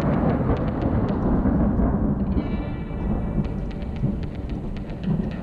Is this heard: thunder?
yes